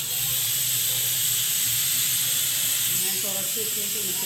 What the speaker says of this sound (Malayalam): അഞ്ചാമത്തെ വിസിലാണ് കേൾക്കണത്